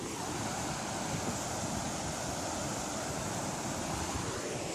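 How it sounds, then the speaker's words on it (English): Waterfall rushing steadily outdoors beside a crossing, a dense, continuous roar of falling water with no breaks, loud and close throughout. "here's a view of the waterfall"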